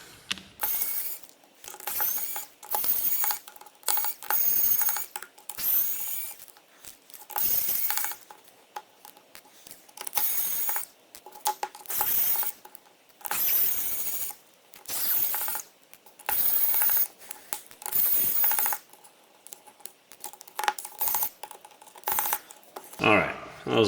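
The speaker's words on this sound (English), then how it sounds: "Now we get to pull out our handy dandy screwdriver and get to it." A screwdriver backs screws out of a NUU Mobile N21 phone during a teardown, giving repeated short bursts of close, ratcheting clicks and scraping separated by brief pauses, with occasional talk between them.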